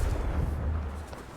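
A Confringo fire spell blast in Hogwarts Legacy, a single heavy, rumbling explosion. It hits at once, then fades into a deep, lingering boom.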